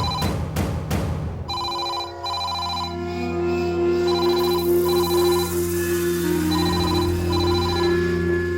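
A landline telephone rings in repeated electronic double bursts over a steady background tone and some soft noise, loud and close, with no talk during the ringing.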